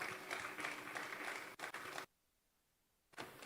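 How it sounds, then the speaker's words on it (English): A round of applause at a fire service ceremony honoring the donor of a fire vehicle, a broad, fairly quiet clatter of clapping that cuts off abruptly, leaves about a second of silence, then starts up again. "I think we should give him a round of applause."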